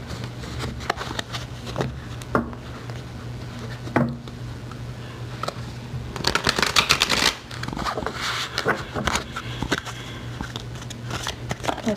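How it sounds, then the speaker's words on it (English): A deck of angel answer cards is shuffled by hand, close and crisp, with repeated riffling and patting bursts and a denser flurry midway. "Now, Angel, let's do some Angel answer cards. We're going to do 3 and see what the angels have to say to you"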